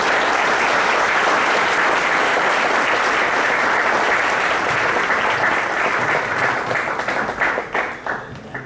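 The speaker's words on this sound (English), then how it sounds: "Please join me in giving our panelists a warm round of applause" Conference audience applauding panelists at a digital transformation conclave, a dense, loud, sustained round of clapping that thins into scattered individual claps near the end.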